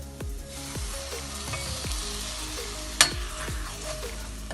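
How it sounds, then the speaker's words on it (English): Half a can of tomato goes into a pot of dhal, setting off a lively, close sizzle and frying crackle. Soft stirring taps sound through it, with one sharp clink partway, and no talk. "I'm now going to add half a can of tomato."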